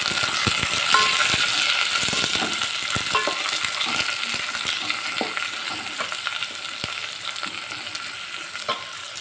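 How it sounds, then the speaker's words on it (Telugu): Ingredients for a spinach and tomato curry frying in a pan, giving a continuous bright sizzle with frequent clicks and scrapes from stirring, steady and close. "ఇవి కాస్త ఫ్రై అవుతుంది"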